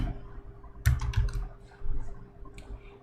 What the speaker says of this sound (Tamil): ஆரோன்னு சொல்லி டைப் பண்ணுறேன்